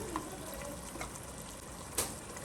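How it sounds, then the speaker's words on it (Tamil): Mutton cooking stock is poured onto soaking rice for a biryani, a faint steady splashing trickle with a few small sloshes, one brief clink near the end. "இது வந்து அந்த கறி வேக வச்ச சூப்பே அப்படியே ஊற்றுறாங்க"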